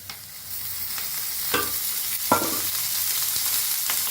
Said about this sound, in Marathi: हलवून भाजून घेऊया कांदा